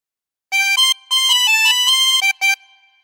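A 24-hole tremolo harmonica plays a Three Blind Mice phrase in several separate blown notes with a wavering, reedy tone, ending on a short final note, with no talking.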